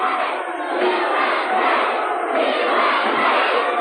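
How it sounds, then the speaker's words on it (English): An arena crowd at a Portland wrestling show roars and shouts in reaction to a body slam onto concrete, a dense sustained wall of cheering that swells and ebbs over several seconds. "The crowd reacting to Steiner's body slam of Billy Two Eagles on the concrete."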